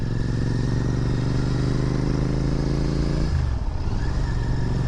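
A new Royal Enfield Continental GT 650 engine idles steadily and loud up close, its low throbbing drone continuous, with a slight shift in tone near the end.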